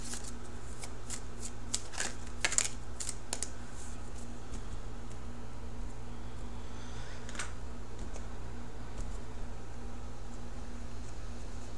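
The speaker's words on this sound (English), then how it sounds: "I am going to shuffle for the outcome card." Tarot cards riffle and slap in a quick cluster of crisp clicks, then a few scattered flicks over a low steady hum.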